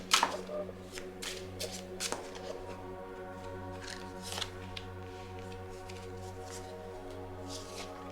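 Symbolon cards are shuffled and drawn by hand, heard as a burst of crisp riffling followed by a few sharp slaps and soft sliding rustles, quiet and close over a low steady hum.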